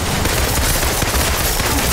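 Dense, continuous gunfire from the video game Marvel's Avengers, a loud, unbroken rattle of rapid shots filling the whole stretch without pause.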